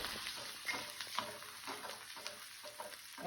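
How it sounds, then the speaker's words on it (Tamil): Chopped onions hit hot oil already holding fennel, cinnamon and cloves for a mutton pepper fry, giving a steady close sizzle with occasional stirring scrapes and clinks throughout. "நம்ம வெட்டி வச்சுருக்க வெங்காயத்தை சேர்த்துக்கலாம்."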